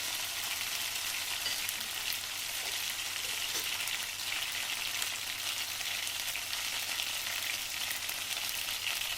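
Three red dry chilies saute in hot oil, a dense, even crackling sizzle like light rain that runs steadily and close throughout with no talk.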